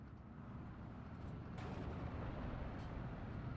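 Pak 40 anti-tank guns fire in a Steel Division 2 World War II battle, a muffled rumbling boom amid a dense, continuous low roar of distant combat, with a couple of faint sharper cracks.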